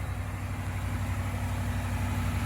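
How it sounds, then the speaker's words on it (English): A 2022 Jeep Grand Wagoneer Series III's Hemi V8 idles just after startup with a steady, deep rumble close by, constant and unbroken. "Hear that Hemi engine start up like a champ."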